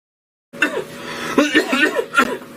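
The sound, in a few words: cough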